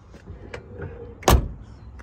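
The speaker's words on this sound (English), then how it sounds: "Door shuts great." A single solid car door thump as the door of a 1967 Shelby GT500 427 shuts close by, sharp and loud against a quiet background.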